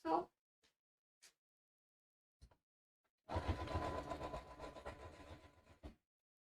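A sewing machine stitches pink fabric with nude thread, including a backstitch: a few faint taps and clicks, then a close, steady mechanical whirring run of stitching lasting a few seconds before stopping with a final clunk.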